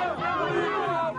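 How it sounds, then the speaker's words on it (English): A ranting pro-Gaddafi crowd in Tripoli, dense chanting and shouting voices massed close together, loud and continuous throughout the short stretch. "you're just surrounded within seconds by ranting crowds, pro-Gaddafi crowds"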